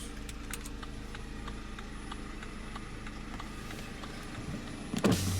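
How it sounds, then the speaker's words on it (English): A 2016 BMW X1's automatic driver's side power window runs with a steady electric motor whir over a faint idling hum, ending in a short thump as it reaches the stop. "Automatic driver's side window."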